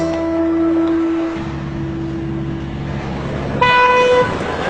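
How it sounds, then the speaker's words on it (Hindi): A car horn honks loudly and continuously up close, its pitch shifting partway through and a sharper blast rising near the end, heard in an Urdu-dubbed drama scene with no speech. "इतना हॉर्न क्यों बजा रहे हो?"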